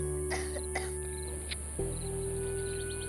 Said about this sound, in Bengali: ওর বাবার খক খক কাশি পেছনে শোনা গেল।